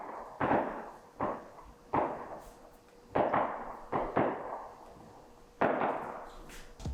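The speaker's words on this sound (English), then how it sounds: "fireworks." Fireworks go off in a series of separate booming bangs, about seven at irregular intervals, each sharp crack followed by a rolling decay, heard at a moderate distance.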